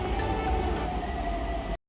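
Pune metro train at District Court station, a steady low hum and rumble with a faint tonal whine, heard close and continuous before cutting off.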